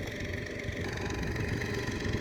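A tractor engine runs steadily at a mid-pitched idle in a village field beside a solar-powered irrigation setup, a continuous near rumble with no voices.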